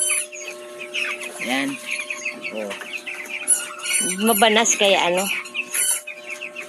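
Growing chicks and chickens in a rural Philippine coop give soft clucks and peeps around someone speaking, with a brief louder burst of fowl calls near the end.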